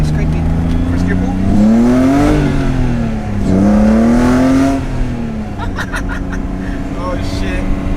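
BMW E30 with an S52 engine and two mufflers pulling hard in first gear, revs climbing loudly twice with a brief dip between, then settling back to a lower drone, close up and continuous.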